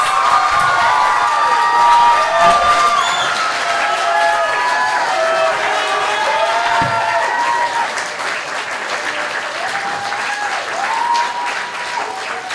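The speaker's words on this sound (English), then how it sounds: "can we get a huge round of applause for our presidential candidates?" A crowd at a student government candidate debate night claps and cheers loudly, with whistles and shouts rising over sustained applause that eases off slightly toward the end.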